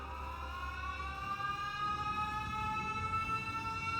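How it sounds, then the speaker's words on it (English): An alarm siren in the factory-building game Factorio, modded with Krastorio 2 during an antimatter reactor test, sounds as a steady harmonic wail that rises slightly in pitch. It is fairly faint, with a low hum under the opening second. "Oh, Siren."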